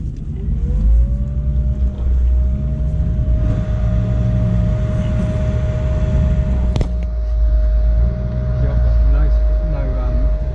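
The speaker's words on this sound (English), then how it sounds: "it's actually engine braking down here" A low, steady engine drone from an off-road Toyota Surf with a 1UZ-FE engine holds throughout with a faint sustained whine, engine braking downhill in first gear at constant revs, while people talk over it.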